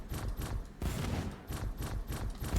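Cannons on a Sabre ship in the Star Citizen game fire in a rapid, regular series of sharp bursts, repeating about every half second and fairly close.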